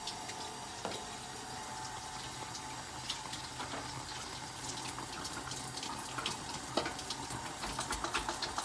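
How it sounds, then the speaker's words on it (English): Water runs steadily from a kitchen sink tap while butter and flour are washed off hands, a constant close rushing splash with faint clinks, no talking. "So I'm just gonna go wash them."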